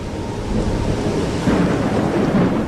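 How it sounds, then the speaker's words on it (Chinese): Rain falls steadily with low rumbling thunder. The rumble swells slightly partway through, and the storm runs alone as a dense, fairly loud wash with no voices. "下雨了，进去避一避吧"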